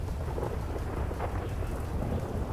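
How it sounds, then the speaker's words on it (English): Thunder rumbles steadily through heavy rain in the weather effects of the GTA 5 video game, loud and continuous with no talk. "Thunder."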